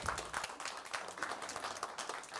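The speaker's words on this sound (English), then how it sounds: "Give PJ a big round of applause." Light audience applause for a volunteer coming onstage at a magic show, scattered clapping from a modest crowd, fairly faint and brief.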